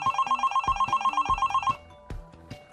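A telephone bell rings in quick repeated trills, loud and close, for under two seconds, followed by a few faint clicks and knocks.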